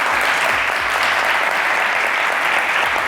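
A studio audience on a Pakistani talk show claps in loud, dense, continuous applause that stays even throughout, with no voices over it.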